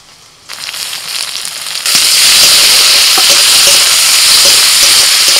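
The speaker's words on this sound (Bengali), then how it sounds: "পেঁয়াজটা ভাজার পর দিয়ে দিচ্ছি টমেটো কুচি আর লঙ্কা কুচি।" Chopped tomato and chilli are tipped into a pan of frying onion. A moderate sizzle swells into a loud, dense, continuous hiss and crackle close by, with no voices.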